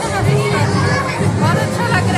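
Dense crowd of devotees gathered at temples during Sawan, a steady babble of many overlapping voices close by with no single speaker standing out.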